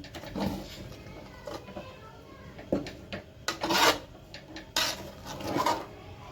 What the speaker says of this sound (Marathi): आता चीक मी मिक्स करून घेते तर शिजलाय चीक रव्याचं